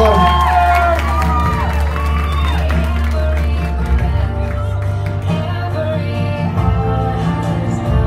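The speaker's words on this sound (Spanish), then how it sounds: "Fuerte el aplauso, por favor." A crowd cheers, whoops and applauds at a quinceañera in Azusa, California, a dense, loud wall of noise with music running underneath and people talking throughout.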